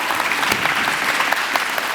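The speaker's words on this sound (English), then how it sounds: "I want to hear a nice loud round of applause." A school STEM expo audience gives a loud round of applause for the speakers, dense steady clapping throughout with no talk.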